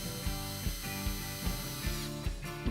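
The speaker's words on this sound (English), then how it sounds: "you need to fix the end in place using 2 40mm wood screws using your battery drill and Phillips head bit" Battery drill with a Phillips bit driving 40mm self-countersinking wood screws into a wooden acoustic panel frame, heard as close, regular ratcheting clicks about every 0.4 seconds, with no talking.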